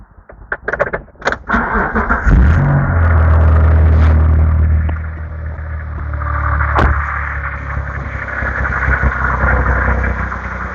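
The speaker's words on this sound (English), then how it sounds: "And now I'm going to start the engine." A Mitsubishi 3000GT / GTO with a DOHC engine cranks after a few clicks and knocks, fires into a loud rev, then settles into a steady close idle, with a sharp clack partway through.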